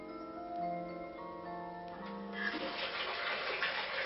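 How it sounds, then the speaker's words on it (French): Bathtub filling in an automated year-2000 smart home, a broad rushing stream of water that starts partway through and runs steadily, heard alone after a few sustained electronic tones. "on fait couler son bain"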